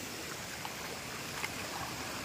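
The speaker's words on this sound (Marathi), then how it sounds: "बघा इकडून पाणी उतरतंय" Water runs down into a brimming public village well, giving a continuous, fairly quiet rushing wash with a couple of tiny knocks and no talk.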